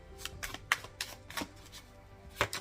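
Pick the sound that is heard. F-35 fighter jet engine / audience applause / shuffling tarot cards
shuffling tarot cards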